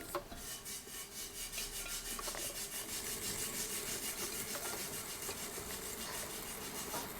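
Steady close rasping and scraping of a trimming tool against a leather-hard clay pot, cutting down the height of its foot ring, continuing in an even run without voices.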